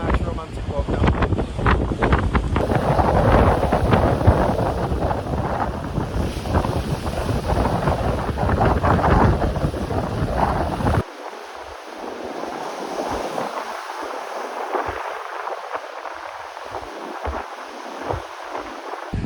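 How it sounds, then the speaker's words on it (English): Strong, gusty wind buffets the microphone at a campsite near Bootle, Cumbria, where a roof tent is being set up. The roar is loud and continuous, then drops sharply partway through to a lighter, rougher rush. "It's a bit windy. It might get blown away at night"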